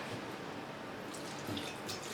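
A small splash of water poured into a homemade terrarium for an ecosystem science experiment, a faint, soft trickle with a few light drips in a quiet room.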